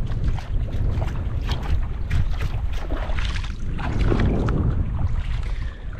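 Steady wind gusting across a hot sandy beach, a loud broadband rush with low rumble and swelling gusts pressing against the microphone throughout, no voices.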